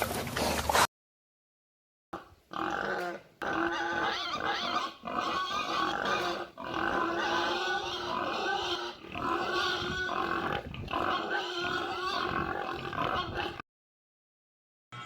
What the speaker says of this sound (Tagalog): Napuno ng mga baboy ang kulungan ko, ang dami-dami